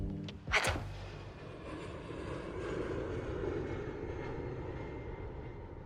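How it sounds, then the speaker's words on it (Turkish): A steady, low roar of an airplane engine, quite faint, holding constant after a short sharp knock at the start. "Uçak sesi geliyor. Hem de bayağı yakından."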